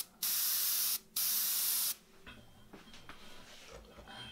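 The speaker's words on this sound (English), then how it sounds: "I've kept the airbrush pointing out all directions apart from facing inwards towards the face" An airbrush sprays paint onto a portrait in two loud, steady hissing bursts separated by a short pause, then falls quiet apart from faint handling noises.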